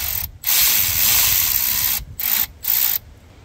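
Ratchet fitted with a universal joint turning a valve cover bolt on a Jeep XJ: loud, close, rapid clicking in several bursts of a second or less, with short pauses between strokes and no talking.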